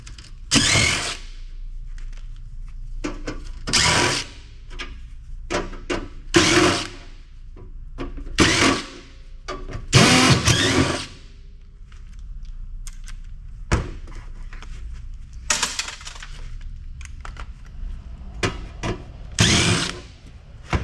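A power driver backs quarter-inch flathead screws out of a PC case in a string of short whirring bursts, separated by quiet pauses and some handling clatter.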